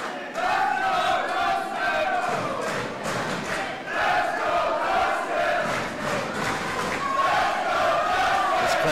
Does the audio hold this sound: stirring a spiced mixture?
no